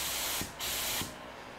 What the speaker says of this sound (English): So I'm just gonna spray on the plastic here.